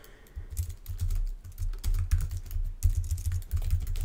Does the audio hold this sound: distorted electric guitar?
no